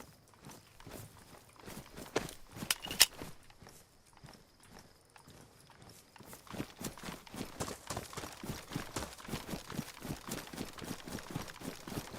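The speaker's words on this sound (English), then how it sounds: "The wolf footsteps are weirder than the people footsteps." Wolf footsteps in the video game DayZ, a steady, rhythmic patter of soft thuds that stays faint and fairly distant at first, then grows closer and more regular.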